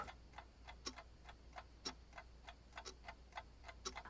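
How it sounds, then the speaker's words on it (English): A clock ticks steadily and softly, even clicks at a regular pace over a faint low hum, with no voices. "the loud ticking already of another clock again prevented me"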